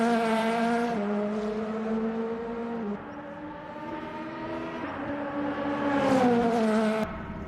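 Race car engine from the Le Mans Ultimate sim racing game, droning steadily at high revs with pitch shifts at gear changes and a rising surge near the end, loud and continuous with no talk.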